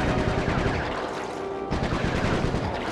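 Rapid bursts of video-game gunfire from Sly 3: Honor Among Thieves crackle densely and loudly through the whole stretch, a near-continuous barrage with a brief dip in the middle before resuming.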